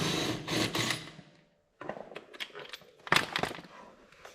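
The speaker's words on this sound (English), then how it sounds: "Let's see if the little impact will take this off." A small impact wrench with a 13/16 socket hammers at a blade bolt on an Exmark Pioneer zero-turn mower deck, with a loud rattling burst, a brief pause, then a shorter burst and lighter knocks close by.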